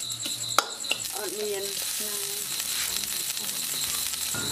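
Grasshoppers fry crisply in a kitchen in Cambodia, giving a steady, close sizzling hiss throughout with a few sharp pops and faint stirring.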